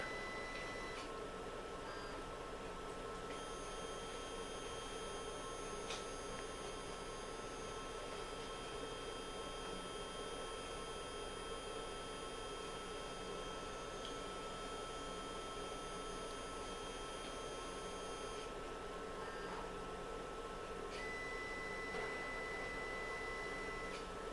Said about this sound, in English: the syringe pump to first clear out the previous contents of the sample loop